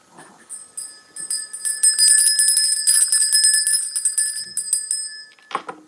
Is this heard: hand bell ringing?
yes